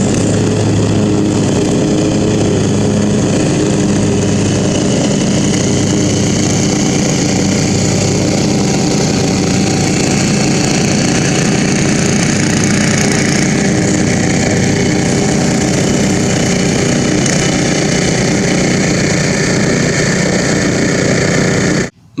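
A Poulan garden tiller's small gasoline engine running loud and close, a steady buzzing drone held for over twenty seconds before cutting off abruptly.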